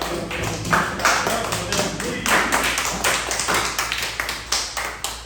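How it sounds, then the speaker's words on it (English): An audience at a talk at the King Arts Complex claps steadily, a dense, close patter of many hands that continues for several seconds without pause. "We are clapping it up."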